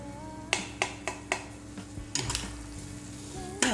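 Spices and green chilli paste frying in a pan for chicken biryani, with a steady sizzle under sharp clicks and scrapes of stirring and utensils tapping the pan.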